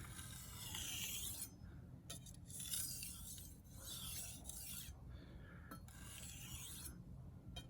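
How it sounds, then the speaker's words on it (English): A knife edge is drawn across a fine Jasper whetstone in steady, repeated gritty rasping strokes, each a second or so long with brief pauses between, close-up and soft, no voices. "With the fine sharpening stone, you bring the edge a little bit tighter together"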